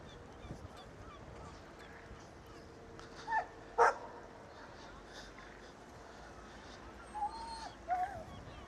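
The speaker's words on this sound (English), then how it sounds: "The dog." A dog barks on a rainy afternoon street walk in Ponta Delgada, São Miguel, Azores, with two short bursts early and two more near the end, fairly faint and distant over steady outdoor background noise.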